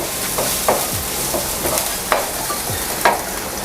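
Ginger and garlic sauté in a hot pan, a constant sizzle broken by a few rhythmic spatula scrapes and stirs, close and fairly loud with no voices.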